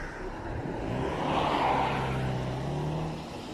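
A vehicle passes near the entrance to a military air base, its engine and tyre noise swelling to a peak midway and then fading, with no talk.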